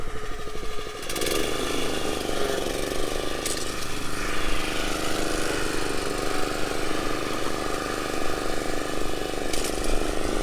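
An Etesia LKX2 petrol lawn mower starts up and runs steadily in long grass, a loud, close engine drone with a rough, even rumble that holds throughout.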